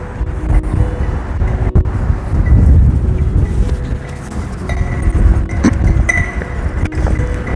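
Strong wind buffets the microphone outdoors near the Maritime Museum in Greenwich, a loud, low, gusty roar that continues throughout, with a few faint knocks from poles at times.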